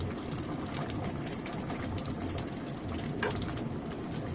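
Curry gravy bubbles and simmers in a pot, a steady, dense low bubbling hiss that runs continuously without pause, moderately quiet and close, with no voices.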